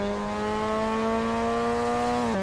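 A Mazda MX-5 ND Global Cup Sequential race car engine in a racing simulator, holding a steady high-pitched tone with strong harmonics at a constant pitch, then dropping slightly at the very end, loud and alone.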